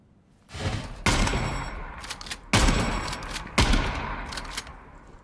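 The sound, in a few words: shotgun firing in Gunsmith Simulator video game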